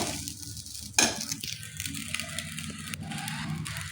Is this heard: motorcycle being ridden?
no